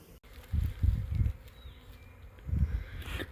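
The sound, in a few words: honeybee colony buzzing before swarming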